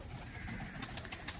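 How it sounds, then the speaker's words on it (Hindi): Pigeons coo softly at close range over a steady background hiss, with a few brief flutters or taps toward the end. "ये देखिए दोस्तों, कबूतर बाहर आ रहे हैं"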